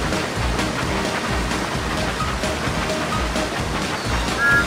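Water rushes steadily down a wild mountain water slide in a Thomas and Friends train game, a broad, constant wash with faint splashy texture and no pauses.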